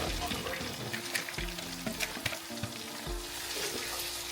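Sliced onions dropped into hot oil and ghee for mutton biryani hiss and crackle in a continuous close sizzle, with a few stirring knocks and a faint tonal hum underneath.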